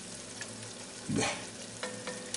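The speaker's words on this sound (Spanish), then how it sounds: "Y ahora dejarlo que se vaya friendo también." Tomato sizzling and frying in a pan while cooking chicken, a steady soft crackle with a brief louder burst of stirring midway, no voices.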